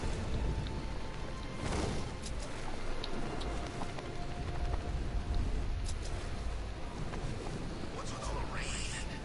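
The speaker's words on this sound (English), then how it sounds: "What's with all the rain?" Rain in the Batman: Arkham Knight video game, a steady soft hiss of falling water with faint distant rumble and brief game sound effects, low and continuous without talk.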